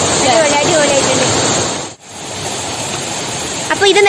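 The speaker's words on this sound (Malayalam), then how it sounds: "അപ്പൊ ഇതാണ് വെള്ളച്ചാട്ടം." Kottakkal waterfall flowing during a low-water spell after scant rain, a steady close rush of splashing water filling the clip, briefly dropping out midway before resuming.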